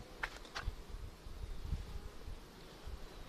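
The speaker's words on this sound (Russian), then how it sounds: "Мы видим, как пчелы прилетают в свои улики, и из-за отравления они умирают." Honeybees suffering from poisoning fly to their hives outdoors, giving a faint, continuous low buzzing hum with soft rustling and a few brief higher buzzes as individual bees pass close.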